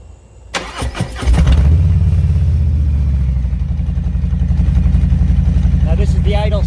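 A 2021 Harley-Davidson Street Bob 114 with a Vance & Hines Eliminator 300 exhaust cranks and fires up close by, then settles into a loud, deep, steady rumble, with a voice briefly audible near the end.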